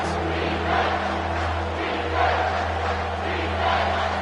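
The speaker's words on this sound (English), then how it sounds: "Here comes this home crowd as the defense tries to get off the field on 3rd down." Home stadium crowd in a college football video game roars steadily at third down, a dense sustained swell of cheering that rises and falls slightly without breaks.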